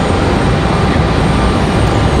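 Steady, loud broadband roar of an airliner on arrival at Raleigh-Durham International Airport, a continuous rushing engine drone holding level throughout with no voices.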